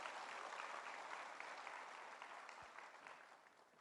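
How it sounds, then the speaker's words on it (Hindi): Applause from an audience at an Amway diamond success celebration event, a dense steady wash of many hands clapping alone and fairly loud throughout, tapering slightly toward the end. "आप ताली बजा सकते हो"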